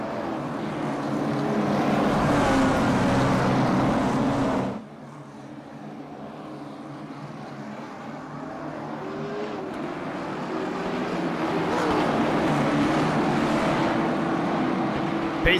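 Race cars at a short-track IROC championship night circling behind the pace car, a loud continuous engine roar that drops sharply as the field passes, then swells again steadily as the cars come back around.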